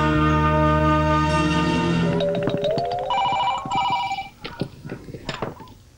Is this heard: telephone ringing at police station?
yes